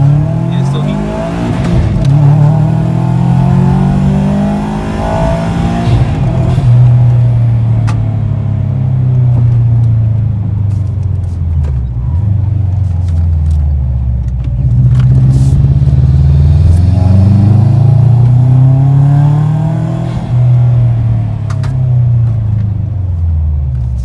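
A Saab 9-2X with newly repaired axles drives and accelerates, its engine rising and falling through several loud, close revving sweeps over a constant road rumble.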